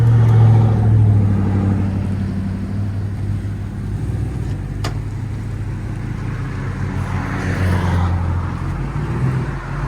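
A 2023 Ram 1500 pickup with a 5.7L HEMI E-Torque V8, Magnaflow cat-back exhaust, 5-inch tips and stock resonators rumbles deeply and steadily nearby, with a slight swell in exhaust note toward the end.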